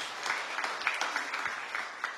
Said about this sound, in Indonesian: Tepuk tangan yang meriah bagi Tuhan Yesus.